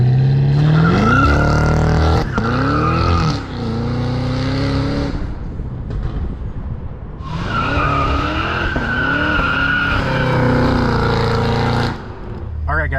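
A 668 hp Cadillac CT5-V Blackwing launches using launch control, its engine revving hard and surging through gear changes as it accelerates away, loud and close, with a brief lull before it climbs again.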